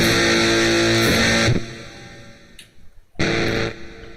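A distortion effect with high gain on a live stream: a dense, buzzing, harmonically rich tone rings loudly, cuts out abruptly, leaves a quieter stretch with faint ticks, then a second harsh burst slams back in.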